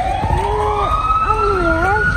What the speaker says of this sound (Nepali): एम्बुलेन्स करायो